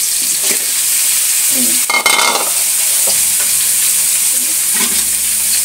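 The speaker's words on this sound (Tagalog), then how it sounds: "Haluin natin." Kamansi (breadfruit) stirred with shrimp in coconut milk in a pan, a loud steady sizzle and bubbling with scraping spoon strokes and a brief clatter partway through.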